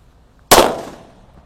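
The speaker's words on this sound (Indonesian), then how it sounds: "Lanjut kita nyalakan mercon colorful thunder." A Colorful Thunder firecracker goes off in a single sharp, loud bang that decays quickly into a short fading tail, after near silence.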